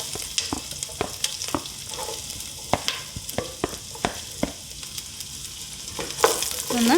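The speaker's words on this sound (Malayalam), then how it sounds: "അതിലേക്ക് നമുക്കിനി പച്ചമുളകും ഇഞ്ചിയും വെളുത്തുള്ളിയും ഇട്ട് കൊടുക്കാം." Green chilies, ginger and garlic hit hot coconut oil for a Kerala kappa biryani, a steady sizzle broken by sharp repeated spatula clacks and scrapes against the pan, close and busy, swelling louder near the end.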